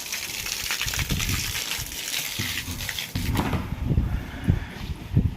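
Water gushes steadily from a newly fitted motor pump through a pipe into a rooftop tank, a continuous broadband rushing that shifts in tone partway through, with thumps and knocks over it.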